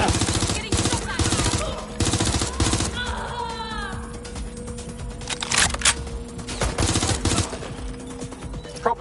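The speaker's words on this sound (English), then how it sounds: "Getting shot at." Rapid bursts of gunfire crackle through a Watch Dogs Legion firefight, with repeated sharp shots and volleys over steady game music and ambience, loud and close throughout.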